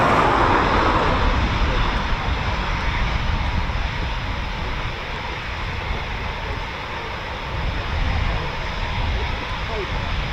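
A Eurofighter Typhoon FGR4 jet at RAF Coningsby, a Quick Reaction Alert station, gives off a loud, steady broadband roar that fills the whole stretch, dipping slightly midway and swelling again.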